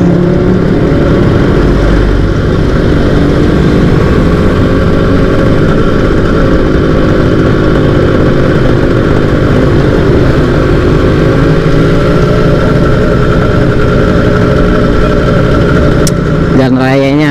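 A Yamaha RZR two-stroke motorcycle with a stock exhaust and an aftermarket carburetor runs continuously at close range, a steady buzzing drone with wind noise as it rides along a road, with a voice talking over it.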